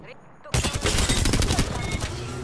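Gunfire in the video game Apex Legends: after a quiet moment, a sudden sustained burst of rapid automatic fire, loud and close, rattling continuously for about two seconds.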